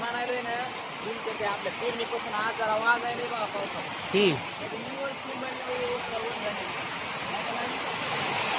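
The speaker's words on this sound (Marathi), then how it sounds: "एक दीड घंटा पाऊस चालतंय वाटतं आता हे" Heavy rain pours over a village farm field in a steady, dense hiss that holds for the whole stretch, with people talking over it.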